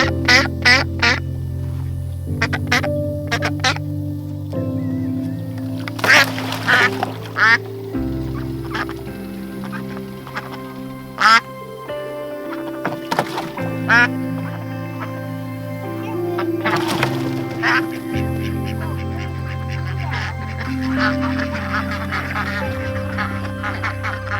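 Black Cayuga duck quacking while being placed into a pool, with repeated loud quacks and honks and other ducks calling nearby, over a continuous mechanical hum, near and clear.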